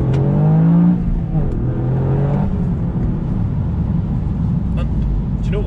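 A Toyota GR Yaris in track mode with a turbocharged engine and piped-in cabin sound hums and revs steadily, a loud engine drone running under a voice for the whole stretch.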